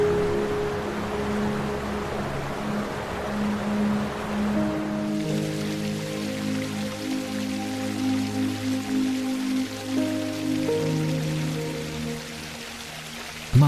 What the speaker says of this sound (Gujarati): કમળેશ્વર ડેમ છલકાઈ રહ્યો છે.